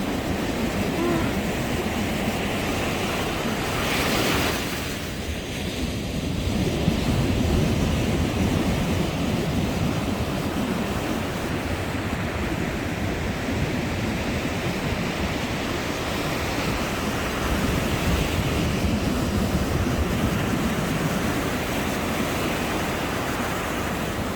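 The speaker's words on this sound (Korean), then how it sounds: "해운대보다 파도가 더 심합니다." Rough ocean surf at night washes continuously onto a beach, a steady broad roar of breaking waves, fairly loud and close, with faint voices in the background.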